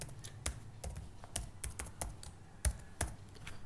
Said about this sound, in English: first we type in the basic commands of Java